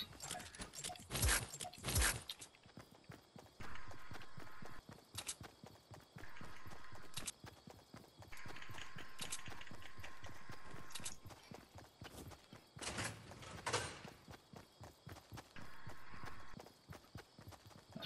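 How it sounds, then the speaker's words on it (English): Player footsteps in the video game Fortnite Battle Royale come as quick, rhythmic clacking patters in bursts separated by short gaps, fairly quiet, with a couple of louder sharp game noises near the start and middle. "I thought your footsteps were someone else's"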